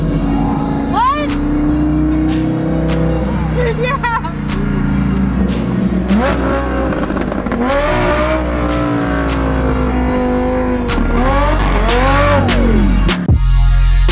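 Loud car engine revving up and down repeatedly with rising and falling pitch sweeps, close and intense, while people talk over it.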